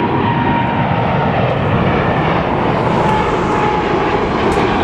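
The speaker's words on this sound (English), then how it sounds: "Wow, look at the size of this plane." A large airplane passes overhead near a Los Angeles construction site, giving a loud, steady broadband engine roar that fills the whole stretch without a break.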